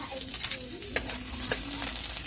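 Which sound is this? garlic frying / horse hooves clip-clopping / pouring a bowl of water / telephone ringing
garlic frying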